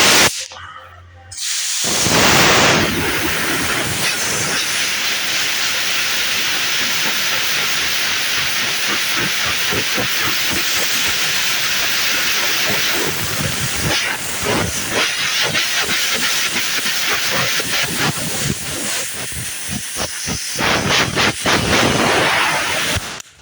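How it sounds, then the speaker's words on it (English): A handheld air blower blasts a steady, loud hiss of air across a panel of automotive body filler, running continuously for about twenty seconds after a brief quiet start. "get an air blower just to show you the difference"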